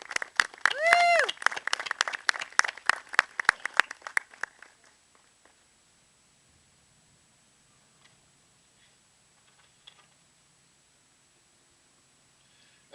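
A small audience at a veterans event gives a short burst of sharp, close clapping with a whoop. It fades out after about four seconds into near silence with faint stray sounds.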